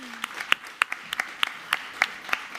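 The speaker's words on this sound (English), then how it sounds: "Please give a very warm welcome to the global head of innovation at Ferrovial. A big round of applause for Laura Tordera." Scattered, uneven claps from a modest audience at the South Summit 2022 conference playground stage as a speaker is welcomed, individual hand claps standing out against a quiet room.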